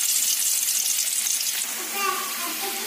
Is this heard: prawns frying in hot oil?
yes